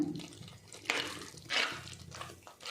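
Water poured into a fish curry cooking in a pot makes a few splashy pouring bursts nearby, separated by brief pauses, with no talking.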